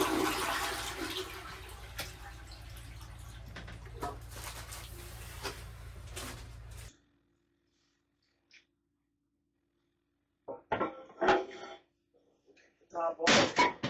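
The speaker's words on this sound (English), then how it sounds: "first thing we do is flush the toilet" A toilet flushing in a house, a loud rushing gush of water that cuts off sharply after about seven seconds, followed by a quiet stretch and then some scattered handling noises and knocks.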